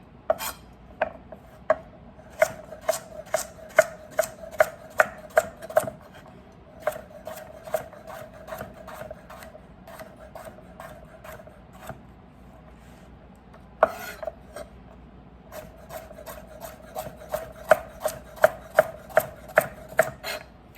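A freshly sharpened knife slices through cooked ribeye steak on a board, making a long run of crisp, regular thuds and scrapes. The rhythm pauses briefly twice, then resumes. No one speaks.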